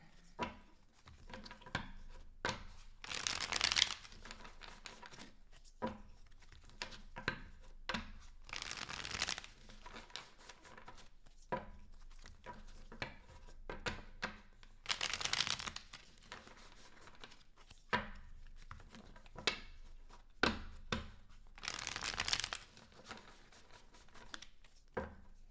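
A deck of tarot cards is shuffled during a reading, giving several crisp riffling bursts a few seconds apart, separated by quieter handling and light shuffling sounds, close and clear.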